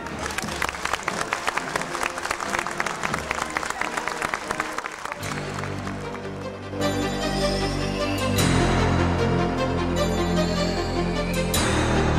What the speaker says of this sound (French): je vous demanderai de tous les applaudir